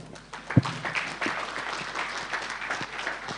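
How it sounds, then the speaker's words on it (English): Applause from a conference audience after a WHO official's address at a national NCD meeting, a steady patter of clapping with one sharp louder clap near the start, moderately distant. "Another round of applause to the WHO Director, Country Representative."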